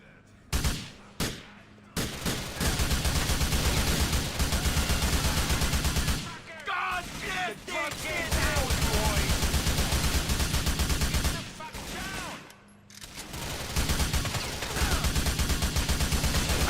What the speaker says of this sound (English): He walked in front of me when I was firing.